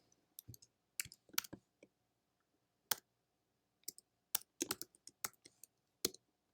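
Keys clicking on a computer keyboard while an inverse command is typed into Octave, in short irregular bursts of close, crisp taps separated by pauses, with no voices.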